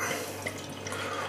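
Tröegs HopBack Amber Ale, a 6% ABV beer, is poured into a glass, giving a brief, close liquid splash and trickle with drippy bubbling over a low steady hum.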